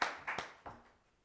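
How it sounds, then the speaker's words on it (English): A few scattered hand claps from a small audience at a League of Women Voters debate event, three or four sharp claps fading out quickly. "applause for the senator from West Virginia"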